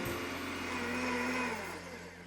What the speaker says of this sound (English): I'm gonna turn on the blender and drizzle this in slowly